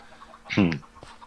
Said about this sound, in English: I got one last chicken.